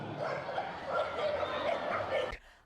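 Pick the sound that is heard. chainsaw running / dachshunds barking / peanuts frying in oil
dachshunds barking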